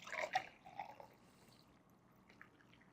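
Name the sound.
coffee being poured into a solid black cup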